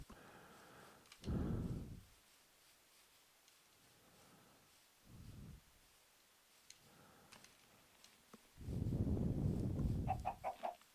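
Chickens cluck in Minecraft in short bursts separated by quiet gaps, with soft background noise and faint higher chirps near the end.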